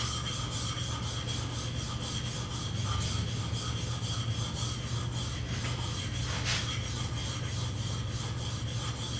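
Blade rubbed back and forth on a super fine diamond sharpening plate in a woodworking shop, a close, steady rhythmic rasping scrape repeating evenly throughout.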